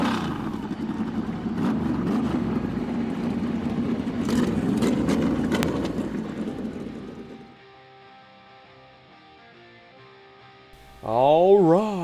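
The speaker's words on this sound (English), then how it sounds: "Drivers, start your engines!" Race car engines starting and revving at a stop-motion NASCAR-style Coca-Cola 600: a loud rumbling growl of several engines for about seven seconds, then a quieter tonal stretch and a sudden rising, warbling rev burst at the end.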